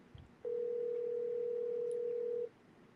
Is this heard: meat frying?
no